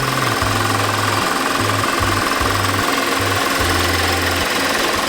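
A high-mileage Audi A6 Quattro 3.2L V6 FSI engine idles with a steady, loud mechanical hum and an uneven, rhythmic ticking knock running through it, heard alone without talk.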